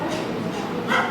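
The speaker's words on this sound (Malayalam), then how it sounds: "ആ പട്ടിൻ്റെ കൊര ഇതുവരെ നിന്നില്ല" A dog barking near a hostel, heard as a couple of faint, muffled yips over a constant low background hum, the clearer one near the end, with no clear talking.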